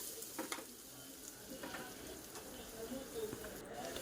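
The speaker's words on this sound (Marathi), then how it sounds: "कांद्याला छान असं गोल्डन कलर येईपर्यंत फ्राय आहे" Quiet, steady sizzling of onion and curry leaves frying in cooking oil, with occasional soft clicks and scrapes of a utensil in the pan.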